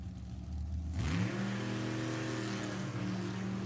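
A 1932 Bantam Roadster nostalgia drag car launches at an NHRA event, its engine bursting into a loud, sustained roar after about a second of crowd background, pitch climbing steadily as it pulls away.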